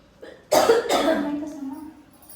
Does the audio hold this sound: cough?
yes